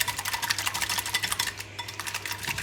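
A beaten egg is whisked briskly in a bowl for hot cross buns, a rapid rhythmic clatter of fast strokes with a brief pause midway before the tapping resumes.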